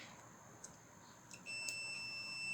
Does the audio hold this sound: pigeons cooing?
no